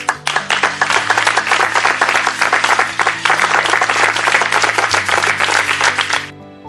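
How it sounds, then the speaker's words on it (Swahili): Students clapping together in a classroom, a loud, dense burst of rapid applause that carries on for several seconds and then stops abruptly, with music playing underneath. "Wanafunzi wote piga makofi."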